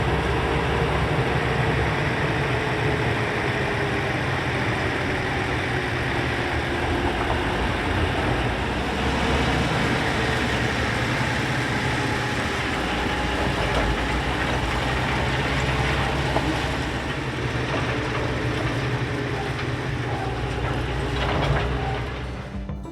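A railway track tamper machine moves slowly along a siding, its engine droning and rumbling steadily at close range for the whole stretch with faint metallic clanks and no talk.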